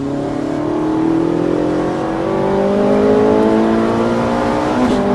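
A Ferrari 458 revs hard at full throttle down a straight during a track driving event, the loud engine note climbing steadily in pitch through the gear without a break and with no talk over it.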